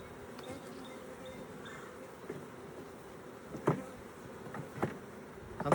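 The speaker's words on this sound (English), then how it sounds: "I'm surprised at how many bees there are in this" Honeybees buzz steadily around an open beehive frame during a Demaree split, a dense, continuous drone close by, with a few brief louder bumps and knocks from handling the equipment.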